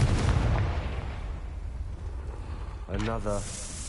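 A Confringo fire spell explodes in Hogwarts Legacy, a heavy booming blast up front fading into a rumbling tail, followed by a short tonal flourish near the end; a voice speaks over the effects.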